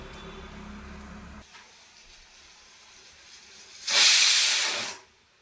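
A pressure cooker cooking dal lets out one loud, hissing steam whistle that rises sharply, holds for about a second, then cuts off, after a quieter stretch of low kitchen hum.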